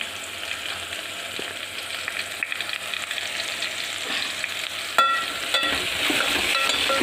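Spices with turmeric frying in a pan, a steady sizzle throughout with light stirring scrapes and a brief louder burst near the end, close and alone without talk.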